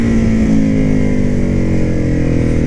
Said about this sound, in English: Good amount of engine braking out of this motor.